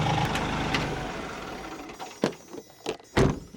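A brand-new Kioti CK3520 tractor engine runs steadily at idle, a low continuous rumble, with a few sharp metallic clunks and knocks near the end from handling the PTO shaft.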